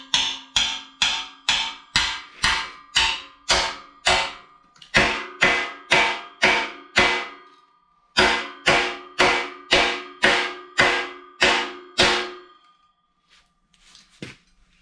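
Steady, ringing hammer blows on a steel rat rod frame being folded over, about two dozen sharp clangs in even rhythm, grouped in three runs with brief pauses, close and loud with no talk.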